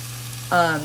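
Ground meat frying in a pan, a brief steady sizzle close by, followed by a short low tonal hum that starts halfway through.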